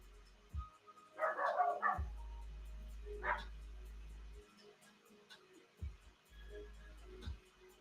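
Dogs barking from across a street outdoors, a few short bursts of barks and yips spread over several seconds, fairly distant, with low rumbling noise between them and no talk.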